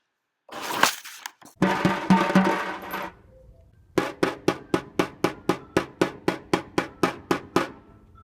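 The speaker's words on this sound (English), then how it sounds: "On the larger tom-tom, we will see that sound is created by hitting the head of the drum with a stick" A tom-tom drum head is struck repeatedly with a stick, first a few loose hits, then a run of evenly spaced, sharp strikes ringing out close by.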